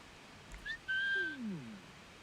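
A character whistles in the video game Assassin's Creed IV Black Flag: a few short, clear, rising whistled tones followed by a longer sliding one, alone with faint background.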